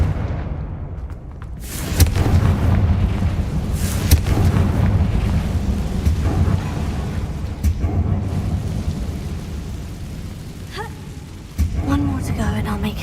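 An explosive Confringo spell blast in Hogwarts Legacy, a sudden loud boom followed by sustained rumbling and crackling, with a voice talking over it.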